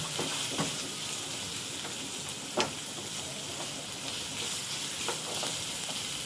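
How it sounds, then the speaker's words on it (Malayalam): Prawns frying in one pan and onions sautéing in another on a home stove, giving a steady sizzle and hiss throughout, with a few sharp clinks of a utensil against the pan and no talking. "ഒരു അടുപ്പിൽ നമുക്ക് ചെമ്മീനും വറുക്കാം, അപ്പുറത്തെ അടുപ്പിൽ നമുക്ക് സവാള ഫ്രൈ ചെയ്യാം"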